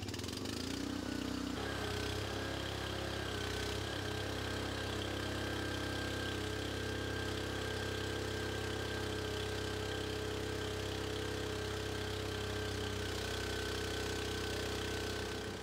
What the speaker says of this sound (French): mettre en marche le moteur et vérifier le bon fonctionnement des cisailles